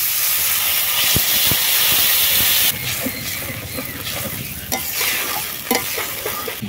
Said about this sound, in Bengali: এবারে জল দিয়ে দিচ্ছি।